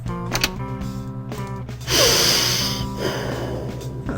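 A patient breathing in the hospital emergency video game Code Blue: a strong, close breathy rush of air, steady and noisy, following a few seconds of low game tones and beeps.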